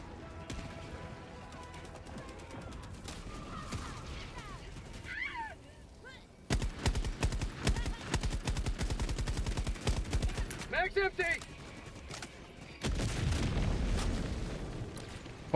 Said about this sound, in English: Why are we shooting the building?